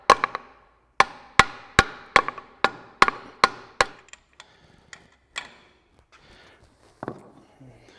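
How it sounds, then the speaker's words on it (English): An axle seal is tapped into place with a hammer handle, a series of sharp, close, hollow knocks in a steady rhythm that slows and grows fainter, with a few scattered taps at the end. "I'll just take my hammer and just kind of tap it with the handle."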